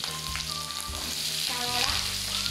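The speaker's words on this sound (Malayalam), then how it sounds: "ഓയിൽ ചൂടായതിനു ശേഷം ഇഞ്ചി പച്ചമുളക്" Ginger and green chili sizzle and fry in hot oil in a pan, a steady close crackle with some stirring and no talk.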